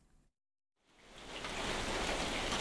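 Rain falling outdoors in Enderley, a broad steady hiss that cuts out briefly, then swells back and settles into a loud, even downpour with no voices.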